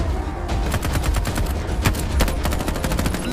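Sustained burst of rapid gunfire, a loud, dense machine-gun fusillade with continuous overlapping shots throughout.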